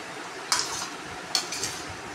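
Chanachur being mixed into a bowl of chickpeas: two brief crisp rustling, clinking stirs, close and fairly quiet over a low background hiss.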